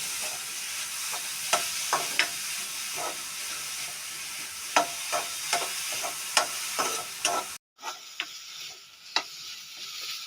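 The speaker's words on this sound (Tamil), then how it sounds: "போட்டு நல்லா ஃப்ரை பண்ணிக்கோங்க" Grated carrot and beetroot fry in ghee for carrot halwa, a soft, steady sizzle under many sharp spoon scrapes and clinks against the pan, with a brief drop near the end.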